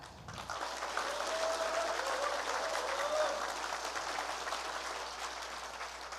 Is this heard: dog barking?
no